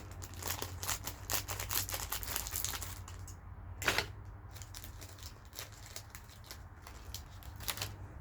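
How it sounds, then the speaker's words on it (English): Scissors cutting open the plastic packaging of a small decorative umbrella meant for a candle, heard close up as crisp crinkling and snipping rustles, steady throughout with one sharper snap midway, and no talking. "Use my scissors and just open these up."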